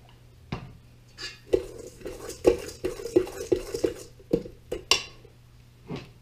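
Muffin batter for blueberry streusel muffins is mixed by hand in a bowl: a run of irregular scraping knocks and soft squishy strokes of the utensil against the bowl, close and fairly quiet, with no voices.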